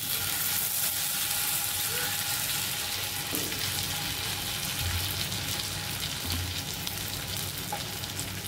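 Two chicken leg pieces for tandoori chicken fry on medium heat in a nonstick pan with a little oil, making a continuous loud, even sizzle with faint occasional knocks.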